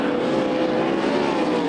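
USAC sprint cars roar around a dirt track on the final lap of a three-car battle, a dense, continuous engine drone at steady loudness with no speech over it.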